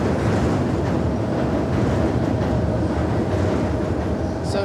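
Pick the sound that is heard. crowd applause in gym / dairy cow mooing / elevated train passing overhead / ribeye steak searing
elevated train passing overhead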